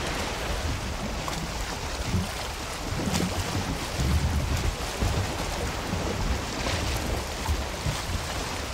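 A sailboat under way in the video game Valheim: a steady, dense rush of wind and water around the hull, loud and continuous with no breaks, with no voices over it.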